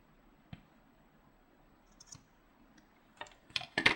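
Snips of scissors cutting rubber loom band yarn short on a fingerless glove from a Rainbow Loom knitting craft, a few separate close clicks that gather into a louder cluster at the end, with no talking.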